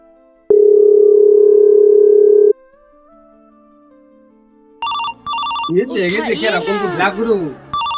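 A steady electronic phone ringing tone sounds for about two seconds, then after a pause a voice speaks loudly over beeping tones.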